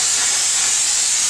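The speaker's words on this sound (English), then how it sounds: "dry steam, 100 psi of concentrated steam" A Therma Steem #10 steam cleaner blasts dry, concentrated steam at 100 psi, a loud continuous high hiss that stays steady for the whole moment with no other sounds.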